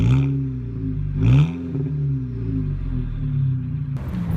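A VW Golf GTI Mark V hatchback accelerates on the road with a strong, close engine rumble. Two rev swells rise and fall as the gears change, followed by a steadier drone.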